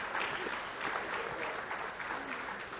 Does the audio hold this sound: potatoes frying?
no